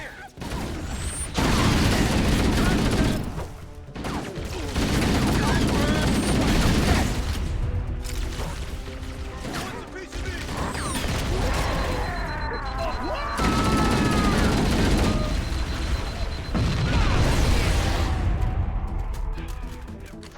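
Halo CE Anniversary firefight: bursts of rapid gunfire and booming grenade explosions come in waves with short pauses, while voices call out in the middle of the combat.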